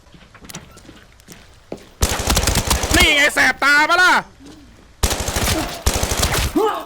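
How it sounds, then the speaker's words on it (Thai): Close bursts of automatic gunfire in a shooter video game, with rapid rounds in two long strings separated by a pause, while someone talks loudly over the shots. "มีเสียงปืนใกล้ๆ"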